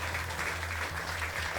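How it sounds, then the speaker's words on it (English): An audience at a live comedy show gives a continuous, even wash of applause, moderately loud and steady through the whole short stretch. "Big round of applause for Anne."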